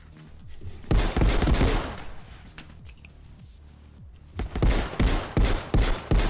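Rapid gunfire in a first-person shooter video game comes in two dense, loud bursts of overlapping shots separated by a quieter pause, with no talk.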